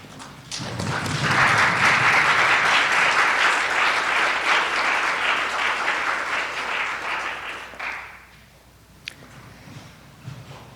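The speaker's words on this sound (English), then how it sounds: "give these people a big thank you and round of applause" Standing class of University of Tennessee at Chattanooga nursing students applauding at a School of Nursing pinning ceremony, a loud sustained round that builds quickly, holds, then fades out around the eighth second, leaving a few stray claps.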